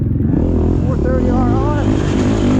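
A 2020 Beta 430RR dirt bike engine rumbles close and loud at a ride park, with a brief rising rev partway through while a voice talks over it.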